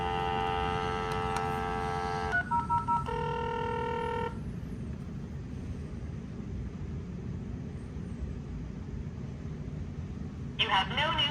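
A hotel suite's room telephone in a Las Vegas executive suite sounds a sequence of electronic tones and short beeps, with a steady hum and a faint voice underneath, then quiet before a final brief tone.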